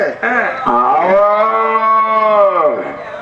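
A cow gives one long, loud, close moo that rises and then holds steady before trailing off.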